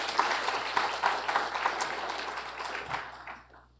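An audience applauds to welcome a guest professor at a law and technology talk, a dense, fairly steady wash of many hands clapping that fades out toward the end.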